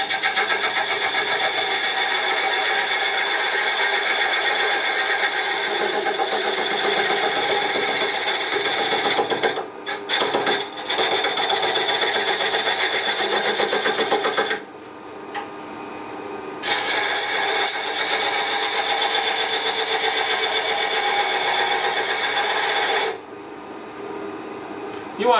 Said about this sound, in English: I will take a skew and we'll get to work on shaving these areas